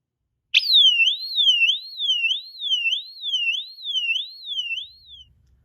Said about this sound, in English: recently I did a video on this Amsico horn strobe, labeling it as the worst sounding fire alarm of all time.